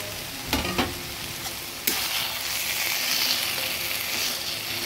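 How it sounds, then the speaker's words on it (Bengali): Fried fish head drops into taro greens in a hot pan. A couple of stirring knocks precede a surge of loud, steady sizzling that carries on close up. "এবার আমি মাছের মাথা ভাজাটা দিয়ে দিচ্ছি।"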